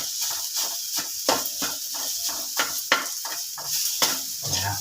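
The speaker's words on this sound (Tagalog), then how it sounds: "Sunod, butang dayon ang kanon kay init ng mantika." Cooked rice tossed into hot oil for garlic fried rice, a steady sizzle broken by repeated scraping strokes of a spatula against the pan, close and clear with no talking.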